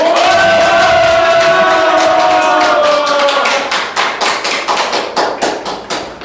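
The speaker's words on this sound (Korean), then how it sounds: "큰 박수 함성으로 모셔보도록 하겠습니다" A lecture audience gives a loud shouted cheer lasting about four seconds to welcome a university vice-president speaking on confidence, then moves into rhythmic, regular clapping.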